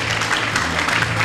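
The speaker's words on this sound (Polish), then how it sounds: "Gorące brawa, proszę Państwa," Audience applause at a 50th anniversary event of a blood donors' club in Głubczyce, a brief burst of steady clapping lasting just over a second.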